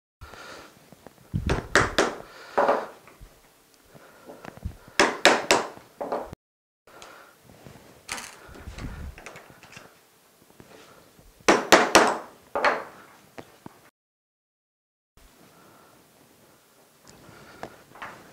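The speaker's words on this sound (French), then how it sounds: "Donc je coupe mon plomb à la forme de la pièce qui va suivre." Lead came for a stained glass window being cut to shape by hand, with intermittent sharp crunching cuts and taps in irregular bursts separated by quiet pauses, close up with no talk.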